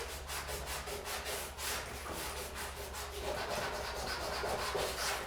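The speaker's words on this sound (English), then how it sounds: "we're just kind of like buffing it out a little bit more." A gold-painted art piece is buffed and scraped by hand. A continuous close rubbing and scratching texture with rhythmic strokes runs throughout, without speech.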